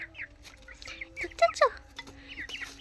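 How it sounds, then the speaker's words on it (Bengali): Young roosters and chicks cluck and cheep in a small coop, with scattered soft peeps and a couple of sharper calls close by, the sounds quiet and irregular throughout. "এটা আমি মোরগ বাচ্চা দেখো একটু মোরগ বাচ্চা"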